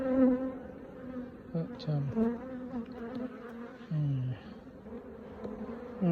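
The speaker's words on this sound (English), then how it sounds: "there are quite a lot of bees in this box now." Honeybees buzz in a dense, droning swarm up close inside a hive box, pitches wavering and sliding, with a brief spoken word briefly heard.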